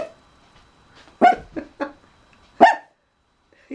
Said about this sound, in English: You're barking at fresh air.